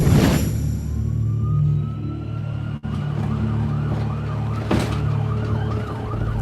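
Wailing ambulance siren from a volunteer ambulance crew answering an emergency call at night in Queens, New York, sweeping up and down steadily over traffic and engine rumble, fairly close and loud throughout.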